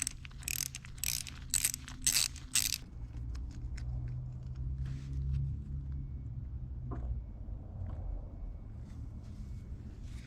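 A ratchet wrench clicks in several quick bursts, close by, while loosening engine mounting bolts on a Yanmar 1GM boat engine, then gives way to quieter mechanical fiddling and a low hum.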